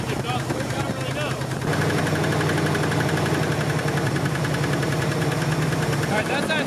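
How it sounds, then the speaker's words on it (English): A worn 454 big-block V8 in a Chevy Squarebody truck runs roughly with a knocking engine and a bad exhaust leak, a loud, continuous, rattling drone close by that thickens after the first couple of seconds. "It's probably knocking really bad, but it started right up."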